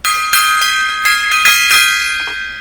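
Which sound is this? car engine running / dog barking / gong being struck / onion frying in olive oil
gong being struck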